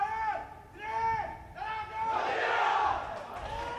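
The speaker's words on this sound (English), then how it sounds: "Huge shout from the Saudi Arabia crowd." A big stadium crowd of Saudi Arabia supporters at a football match lets out a loud, sustained collective shout that swells in the second half, with chanting voices rising and falling throughout.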